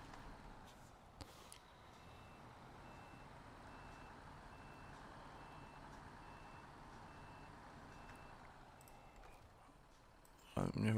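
Truck reverse alarm in the SnowRunner video game, a steady beeping held for several seconds as the truck is turned around after its trailer is unhooked, with engine rumble beneath and a voice talking over it.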